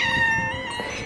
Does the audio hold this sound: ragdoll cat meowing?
yes